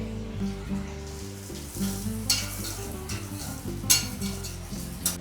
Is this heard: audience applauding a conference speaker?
no